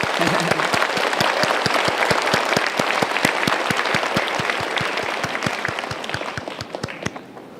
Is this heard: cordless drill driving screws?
no